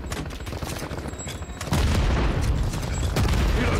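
In Call of Duty: Modern Warfare 3, a C4 charge goes off amid constant gunfire, with a heavy booming blast that jumps in loudness partway and rumbles on under the battle noise.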